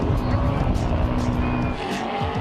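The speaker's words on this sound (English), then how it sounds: "the pace in the early going is swift, with racer after racer and vehicle after vehicle" Off-road race trucks and ATVs tear along the desert course near Ensenada in the 2005 Baja 1000, with a loud, continuous engine roar and tire noise from close range.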